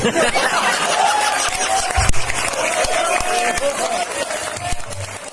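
Crowd applause mixed with laughter and chatter, a busy, loud room with scattered claps and voices throughout.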